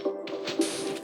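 Water placed in the Minecraft video game makes a short, wet splashing gush with a squishy liquid swirl, lasting about a second.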